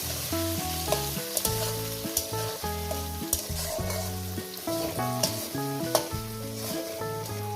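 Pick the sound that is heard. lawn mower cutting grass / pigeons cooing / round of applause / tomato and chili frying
tomato and chili frying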